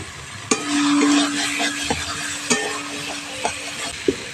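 Green peas, potatoes and spices are stir-fried in a wok, giving a steady sizzle broken by sharp knocks of a spatula against the metal and a low hum.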